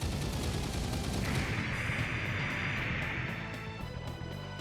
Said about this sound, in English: I was right in fearing that that was the cannon shot